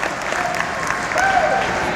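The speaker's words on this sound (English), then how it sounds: "Big hand from the crowd as she approaches the uneven ramps." Spectators at a 2009 wheelchair slalom Super G race clap and cheer steadily as a racer approaches uneven ramps on the obstacle course, a sustained wash of applause with a commentator talking over it.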